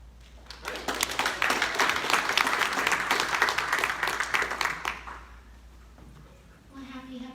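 Applause fills the room at a Rotary Club meeting, a loud, dense clatter of hands lasting about five seconds before it fades and a voice begins speaking.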